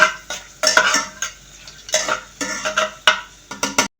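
Ingredients being fried in hot oil for a hotel-style Bangladeshi chana dal bhuna, with close, repeated bursts of spoon scraping and pan clatter over a faint sizzle, arriving in uneven strokes.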